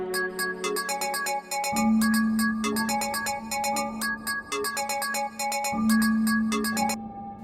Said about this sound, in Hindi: हॉस्पिटल से फोन।